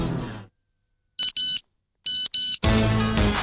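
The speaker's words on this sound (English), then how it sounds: "Get the latest and greatest ringtones on your mobile." Mobile phone ringtone sounding as two pairs of short, loud electronic beeping bursts separated by silence, followed by a burst of louder music.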